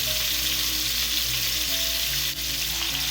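Seasoned swordfish steaks frying in a pan over medium-high heat, a loud, constant close sizzle with no voices.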